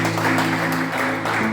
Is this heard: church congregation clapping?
yes